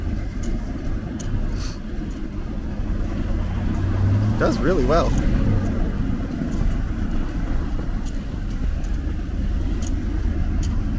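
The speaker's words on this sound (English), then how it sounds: "That little car gets like bogged down and just like slowly starts clawing and this wheel and that wheel" A small car's engine strains and revs as its wheels claw slowly through deep snow on a wooded mountain track, steady and close, with a person talking over it.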